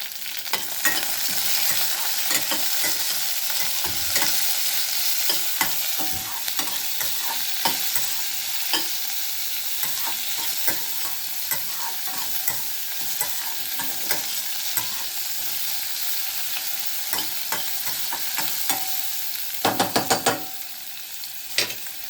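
Tomatoes frying in hot oil while being stirred in a pan, a steady dense sizzle with frequent scraping stir strokes throughout, close and loud, ending with a brief louder burst of clatter.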